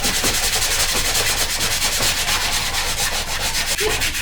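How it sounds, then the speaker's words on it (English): Sandpaper rubs a wooden birdhouse to scuff and age its surface. It makes a loud, continuous close-up rasp of quick back-and-forth strokes that never stops, with no talk. "we were talking about just kind of scuffing it up with some sandpaper and making it look a little aged anyway"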